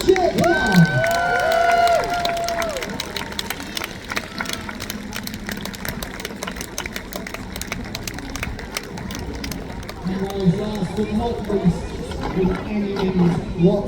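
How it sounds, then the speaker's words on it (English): Crowd cheering and whooping for the team captains at a naval battle show in Peasholm Park, Scarborough, a broad outdoor roar that rises again near the end, with a voice and scattered calls over it. "Give them a cheer, come on"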